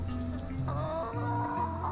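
Several backyard chickens cluck close by, overlapping low throaty calls and a few higher squawks in a steady chatter.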